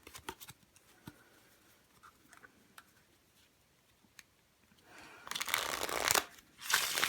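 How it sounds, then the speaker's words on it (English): A deck of playing cards on lesser-quality stock is handled with light ticks and flicks, then shuffled in two loud riffling bursts near the end, close and clear with no talking. "they shuffle okay and whatnot."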